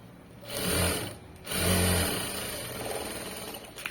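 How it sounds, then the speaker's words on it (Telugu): Sewing machine stitching fabric in two short, fast whirring runs with a pause between, then a softer, slower mechanical chatter as the stitching continues, close up with no talk. "ఇలా పెట్టేసుకుని ఇలా నీట్గా స్టిచ్ చేసుకుంటూ వెళ్ళిపోవాలి"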